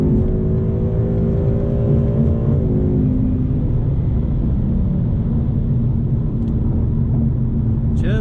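A 2019 Ford Mustang GT Premium pulls hard in traffic. The engine gives a loud, steady roar whose tone climbs briefly in the first few seconds, heard from close by with no talking.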